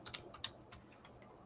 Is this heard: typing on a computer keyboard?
yes